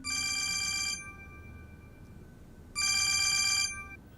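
Two bursts of an electronic telephone ringtone in a domestic drama setting, bright and trilling, each lasting about a second with a quiet gap between, heard alone with no talking.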